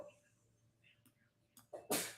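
A single sharp sneeze bursts out at the end after a few quiet breaths and faint sounds, loud and close.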